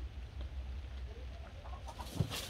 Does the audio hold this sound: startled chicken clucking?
yes